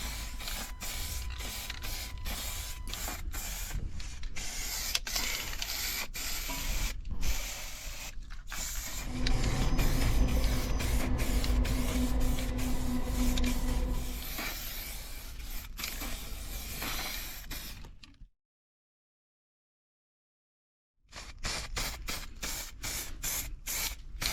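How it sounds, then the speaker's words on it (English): Bursts of aerosol primer spray hiss repeatedly in short and long pulses while painting Royal Enfield Classic 350 motorcycle parts in a small space, with a louder sustained stretch midway, a silent pause, then more quick sprays. "wear a mask when you're spraying, especially in a small area like this"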